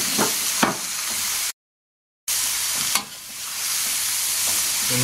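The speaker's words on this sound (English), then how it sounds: "Just adding in a bit of water to help it steam a bit." Chicken pieces and broccoli with zucchini, dill and garlic sizzle steadily in a hot pan after a splash of water is added, a loud continuous frying hiss broken by a short gap and soft stirring scrapes.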